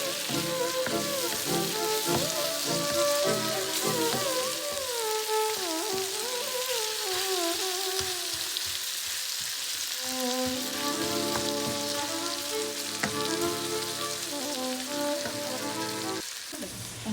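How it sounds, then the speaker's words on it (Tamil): Tomatoes sizzle as they are stirred and sautéed in a pan on the stove for a tin fish curry. The frying hiss is continuous and soft, set under background music. "போட்ட தக்காளி பழம் நல்லா வதங்கி வர வரையும் நாங்கள் அடுப்பில் வச்சு கிண்டி விடுவோம்"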